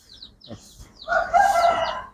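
A hen with her chicks makes a few soft, brief calls, then a louder, drawn-out clucking call up close, with faint high peeps early on and no talking.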